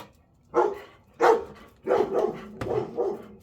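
Several dogs bark in a quick series of sharp, moderately distant woofs, five or six barks in irregular rhythm, heard alone without talk.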